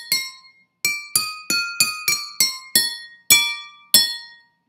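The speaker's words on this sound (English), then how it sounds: "when you put different amounts of water in these glasses, you can get different pitches out of it" Water-filled drinking glasses struck with chopsticks, about ten clear ringing clinks of differing pitch in a loose melodic sequence, each tone decaying before the next, close and alone.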